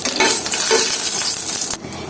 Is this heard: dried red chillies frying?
yes